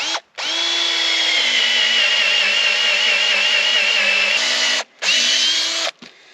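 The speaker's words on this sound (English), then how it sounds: "So then it's where we drill our second hole." A power drill bores a hole in a farm gate, running loud and close in a long steady whine, stopping briefly, then a second short burst before cutting off.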